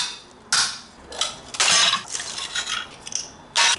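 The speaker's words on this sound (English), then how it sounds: "Hit your flat bar and see if you can, if you're lucky, you can get whole tiles to come up at once" A hammer striking a flat bar to pry up floor tiles, a few sharp metallic hits at irregular intervals separated by quieter scraping and handling noise, close by and with no talk.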